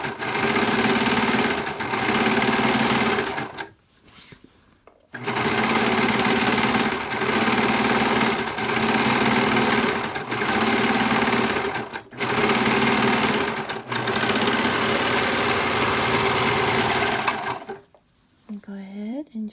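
Sewing machine trimming and finishing ribbon skirt fabric runs in loud, fast, continuous bursts separated by brief pauses, stopping near the end as a voice briefly speaks.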